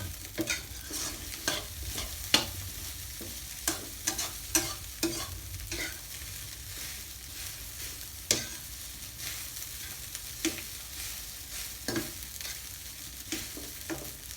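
Rice stir-fried with canned fish in a hot pan, with frequent sharp scrapes and clacks of a spatula over a soft, continuous sizzle across the whole stretch.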